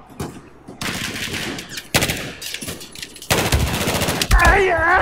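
Automatic gunfire in Battlefield 4 fires in repeated bursts, loud and close, with short pauses between volleys and a player's voice reacting briefly.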